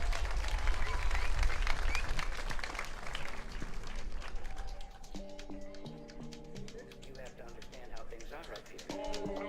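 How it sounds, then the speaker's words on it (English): Crowd applause and cheering at a team car roll-out event, loud and busy at first, then thinning out as rhythmic music with a steady beat takes over in the second half. "A round of applause for the DUT10."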